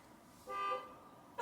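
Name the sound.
car horn beeping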